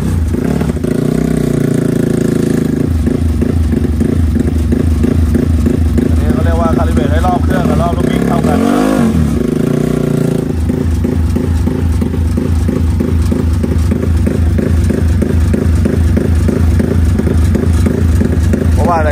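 Honda Wave race motorcycle engine on a dyno, revving loud and close, with a steady throbbing idle that swells into higher revs and falls back, then settles into a rapid pulsing rhythm throughout.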